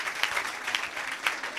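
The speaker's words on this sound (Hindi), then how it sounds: "ज़ोरदार तालियां बजाइए एक दूसरे के लिए" An audience claps loudly and steadily, a close, dense burst of applause with a few sharper claps standing out.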